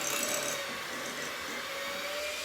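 An electric mixer beating chocolate crinkle cookie dough whirs with a steady, close, high-pitched motor hum and a continuous rough rasping, with no pauses.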